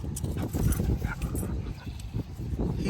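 A dog moves about at a dog park split into big-dog and small-dog sides, with dense scuffling, panting and low yips filling the scene fairly close, amid steady outdoor background noise.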